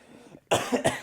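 After a quiet moment, a quick cluster of three harsh coughs sounds up close, each sharp burst following the last in rapid succession.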